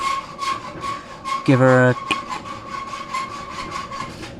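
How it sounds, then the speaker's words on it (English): A blade cuts through a rubber engine mount on a Land Rover during a Cummins engine conversion: one short, loud rasping burst of about half a second, with workshop noise and someone talking before and after it. "we're getting a clearance issue with the rubber, so we're going to have to just cut a small section out of there"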